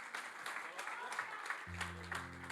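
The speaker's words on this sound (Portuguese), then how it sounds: "Você pode aplaudir o Senhor Jesus?" A church congregation applauds steadily in rhythmic claps, fairly faint, while a low organ or keyboard chord enters partway through.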